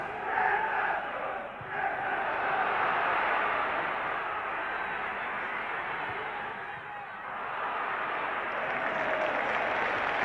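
A football crowd of about 14,000 at a 1991 Peterborough United versus Liverpool match roars steadily in reaction to a penalty decision, a broad, continuous wash of distant voices.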